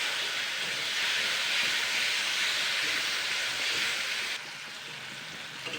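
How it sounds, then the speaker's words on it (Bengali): Tomato and spices sauté in a hot pan, giving a loud continuous sizzling hiss that drops slightly in intensity near the end. "এইবার আমি এগুলোকে দিয়ে ভালো করে কষিয়ে নেবো।"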